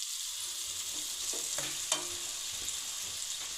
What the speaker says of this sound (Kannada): ಇವಾಗ ಇದಕ್ಕೆ ರೈಸ್ ಮಿಕ್ಸ್ ಮಾಡ್ಕೊಳ್ಳೋಣ